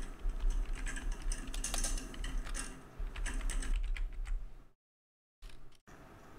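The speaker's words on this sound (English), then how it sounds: "And I'm going to type something really random" Rapid typing on a computer keyboard, close and steady with dense clicking keystrokes that pause briefly before resuming, with no voices.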